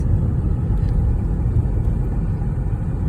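A dodgy hire car drives through the hills of Zakynthos, heard from inside as a loud, steady low engine and road rumble with no break.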